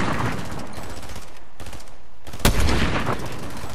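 Video game gunfire in a multiplayer shooter: continuous rapid automatic shots crackling throughout, with a sharper, louder burst near the end, no voices.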